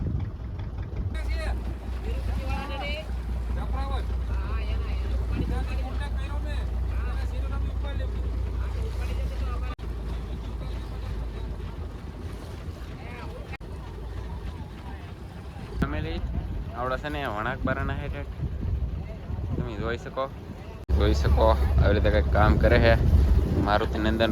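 A fishing boat engine off Diu runs in gear with a steady low rumble and wind buffeting, while voices talk over it for much of the time; the engine swells louder near the end.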